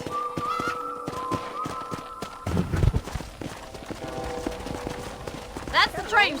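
Horse hooves clip-clop at a steady trot while riding in the Red Dead Redemption video game, mid-distance rhythmic beats under game music and a man's speech.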